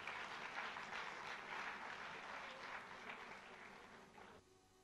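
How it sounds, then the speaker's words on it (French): An audience at an official exhibition opening applauds steadily and fairly close, a dense wash of clapping that thins slightly and stops abruptly near the end. "Mais au moins applaudir pour l'ouverture officielle."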